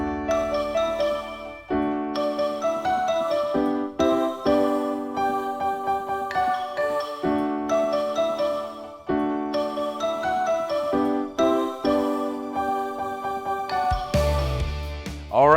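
Piano plays the chorus of a song in a steady, full passage of chords and melody lasting about fifteen seconds, with no voices, ending in a brief louder flourish.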